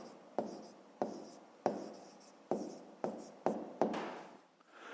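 Pen strokes scratch across paper as a number is written by hand, seven or eight sharp, close scrapes in a steady rhythm with short pauses between them, clear and alone in a quiet room.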